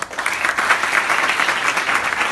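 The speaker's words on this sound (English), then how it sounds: "Give a round of applause" Audience gives a round of applause, a loud, dense and steady wash of clapping from many hands that holds evenly for the whole stretch.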